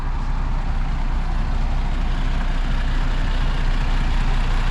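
A John Deere tractor engine runs at a steady low rumble while maneuvering slowly back and forth to pull a combine in hot weather, a constant close drone with no talking.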